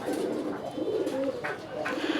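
Sky-blue Naira pigeons, kept among local pigeons for sale, coo in low repeated throaty calls close by, with a steady background hiss and faint rustling.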